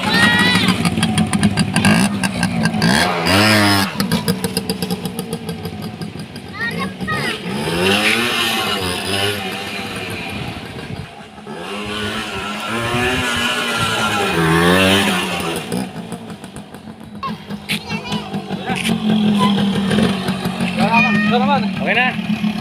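A 25-year-old RS 100 motorcycle engine running after a new carburetor and clutch lining were fitted, revving up and down loudly and repeatedly close by, with a rough, sputtering tone throughout.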